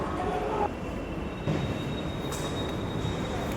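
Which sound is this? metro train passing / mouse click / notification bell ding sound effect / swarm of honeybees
metro train passing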